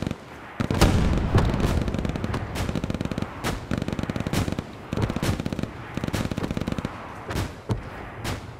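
Machine gun fire in the WWII shooter Hell Let Loose comes as repeated loud bursts of rapid shots, broken by sharp single blasts and brief pauses, with no talk over it.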